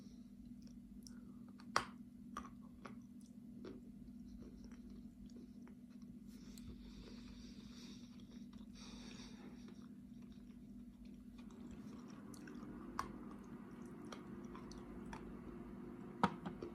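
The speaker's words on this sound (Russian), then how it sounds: "Ну, сейчас откусим еще от такой печенки." A homemade cookie flavoured with viburnum berries is bitten and chewed close up, giving quiet, sporadic crunchy clicks over a low steady hum in an otherwise hushed room.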